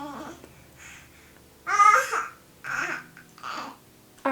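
Young infant babbling and cooing while playing during bath time, a series of short soft vocal bursts with pauses between, fairly close, one louder squeal-like outburst in the middle.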